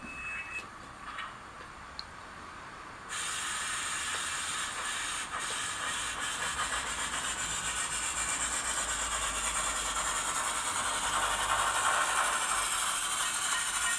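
An OO gauge 2-6-2T model tank locomotive with an Econami sound decoder runs with real wheel slip, its steady mechanical chuffing and hiss building loudly after a quieter opening with faint clicks.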